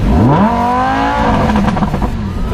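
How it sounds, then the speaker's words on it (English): A C6 Chevrolet Corvette engine revs up sharply, the pitch sweeping upward then settling into a loud, rough rumble close by. "you can rev it really again. nothing like that sound"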